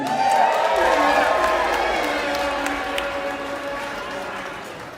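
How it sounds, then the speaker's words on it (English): A large crowd at a live painting competition in Toronto applauds and cheers loudly, a dense wash of clapping with whoops, gradually easing off over several seconds. "let's have a huge round of applause for Tristan!"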